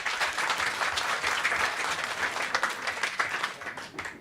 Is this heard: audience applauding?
yes